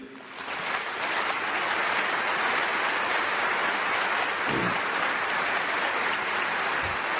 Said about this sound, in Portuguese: Eu também queria um aplauso para o time Inspira.